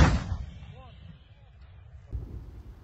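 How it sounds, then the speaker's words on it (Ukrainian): A single artillery gun shot on a battlefield near Snake Island, a loud broadband boom at the start that fades into rumbling decay, then a second softer thud; voices are heard briefly. "Постріл!"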